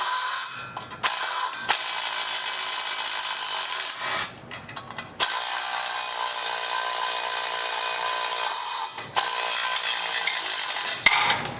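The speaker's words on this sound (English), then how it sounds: "I'm going to remove this fan." Hand tools and a ratchet working on a hotrod's radiator fan during removal: close, continuous ratcheting clicks in steady runs, broken by several short pauses and a few clunks.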